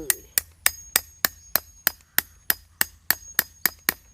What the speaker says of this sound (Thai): ปักแล้วก็ตอกด้านข้างไปเลย